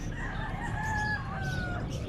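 A rooster crows once at a bird market in Angeles City, a drawn-out cock-a-doodle-doo heard from a short distance over low background noise.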